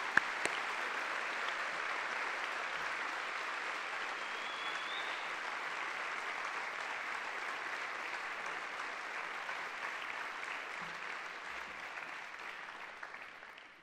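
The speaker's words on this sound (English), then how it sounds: "Would you please join with me in a round of applause for our veterans?" A school audience gives a sustained round of applause for veterans at a high school Veterans' Day program, steady and full from start to finish before tapering off at the end.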